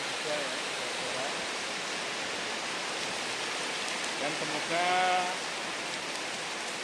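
Heavy rain with strong wind on an afternoon in Demak, a steady dense broadband wash throughout, with someone speaking briefly over it near the end.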